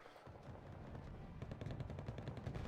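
Gunfire in the battle game Wargame Red Dragon, rapid machine-gun bursts and overlapping shots rattling continuously at moderate volume.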